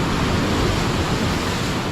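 Ocean waves at a Bali beach wash and surge in a steady, loud broadband roar of surf, close and continuous with no talk.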